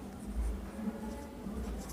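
Chalk or marker writes on a classroom board during a maths lesson, soft close scratchy strokes with faint background noise.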